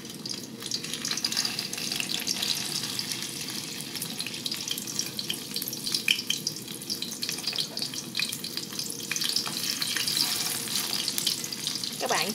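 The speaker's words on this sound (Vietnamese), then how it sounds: "để mình chiên ba cái khứa cá thu của mình nó sẽ mau hơn" Steady, crackling sizzle of mackerel pieces frying in hot oil, close and continuous, with occasional faint clinks and splashes of water in the background.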